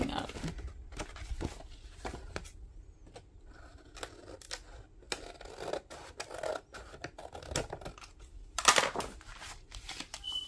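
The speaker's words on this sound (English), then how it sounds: "I'm gonna snip this whole piece off." Scissors snip through material while a writing board is being made, giving a series of short crisp cuts and scrapes that are faint and close, with rustling handling noise in between.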